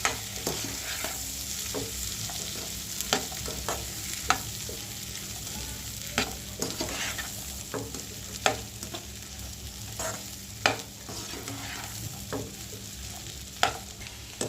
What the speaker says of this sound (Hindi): इसमें हम अच्छी तरीके से इसको फ्राई कर लेंगे।